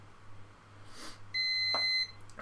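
An exercise timer gives a single steady electronic beep lasting under a second, clear and alone against a quiet room after a reset.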